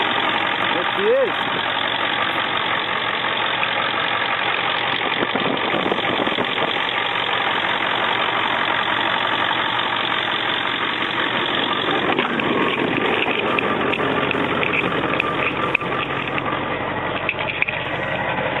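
A 2001 Ford F-250 pickup idles steadily just after a cold start, with an even, unbroken engine rumble and a faint knock running the whole time, and voices occasionally over it.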